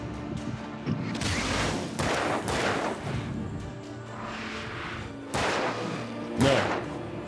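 Gunshots in the video game Alan Wake, heavy booming blasts at irregular intervals over a dark ambient bed, several loud thuds spread across the stretch.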